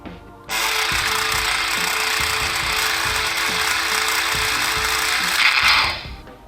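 An airsoft plasma pistol prop fires its overcharge effect while the trigger is held, giving a loud, continuous electric whirring hiss that holds steady for about six seconds before cutting off.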